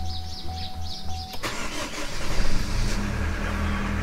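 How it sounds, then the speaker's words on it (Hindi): A car makes a cold start on a freezing, snowy morning in Shimla: birds chirp quietly at first, then the starter cranks and the engine catches abruptly and settles into a steady, rough idle nearby. "इसको 2 मिनट तक कोल्ड स्टार्ट कर ही दें,"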